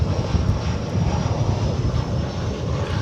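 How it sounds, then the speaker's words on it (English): American Airlines Airbus A319 arriving on a runway at DFW airport, its engines giving a steady, loud broadband roar that holds throughout with no voices. "bring you the arrival of American Airlines Flight 9783 from Amarillo, Texas, and Airbus A319 on Runway DFW"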